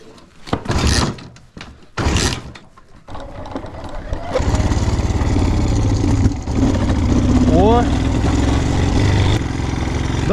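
An Alfa Romeo car engine cranking but failing to start after sitting idle a long time: a few short loud bursts first, then a sustained harsh mechanical churning that runs on steadily and close.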